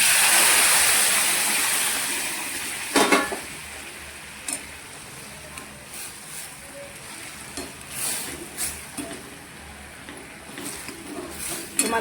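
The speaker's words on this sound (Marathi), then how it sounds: "मी थोडं पाणी वतते बघा" Water poured into a pan of cooking vegetable curry made with sour chuka greens, a steady broad splashing rush that is loud at the start and then eases into fainter sizzling with a few sharp clinks, and no talk.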